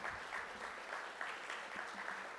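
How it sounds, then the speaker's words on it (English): An audience claps steadily in a dense, even wash of applause welcoming a new cohort of Master of Science in Global Supply Chain Management students at a summit, moderately distant and sustained. "let's give a round of applause for welcoming them to Masters of Science in Global Supply Chain Management"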